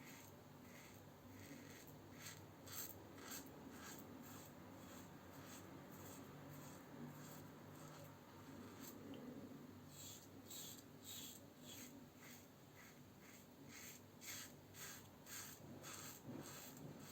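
A Muhle Rocca R94 safety razor scrapes through stubble in a run of quick, close strokes that come in regular bursts. The sound is soft and steady, with no one speaking.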